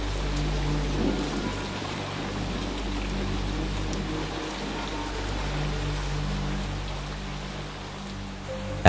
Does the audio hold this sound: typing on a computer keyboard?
no